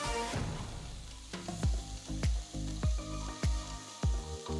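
Chopped onions and green chillies fry in oil, sizzling steadily in a wide pan while being stirred and tossed at regular intervals, each stir bringing a brief surge of hissing.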